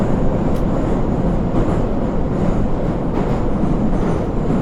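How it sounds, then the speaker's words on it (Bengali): A train passing close by, a loud, dense, continuous rumble and rattle of wagons on rails that holds steady throughout without voices. "ট্রেনের শব্দ শুনছিলাম।"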